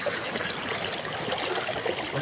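Floodwater after heavy rain on a road in Rajanpur, near Kot Mithan Road, rushes steadily and close by, with a continuous gurgling, trickling flow and no voices.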